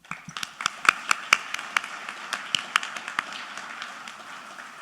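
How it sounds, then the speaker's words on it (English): A small round of applause breaks out at a San Diego State football press conference, a sparse scatter of individual claps that starts sharp and close, then thins and fades. "I want to give Sean and his family a round of applause"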